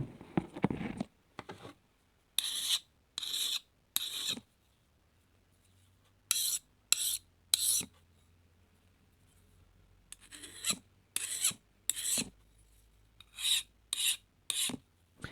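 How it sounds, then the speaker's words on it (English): A metal file rasps across hard steel from an old bed frame, a knife blade, in short repeated strokes, bursts of gritty scraping separated by quiet pauses, close up with no speech. "I'll just do the file test here so you can hear the difference"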